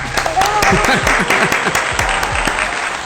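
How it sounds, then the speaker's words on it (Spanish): A studio audience on a podcast set applauds a guest, a close, steady patter of clapping from a modest group, with a voice speaking over it. "Un aplauso, por favor."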